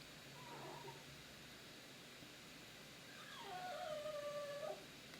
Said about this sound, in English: Do we hear the dog like screaming, crying, rolling on the ground in the background?